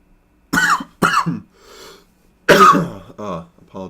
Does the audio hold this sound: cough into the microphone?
yes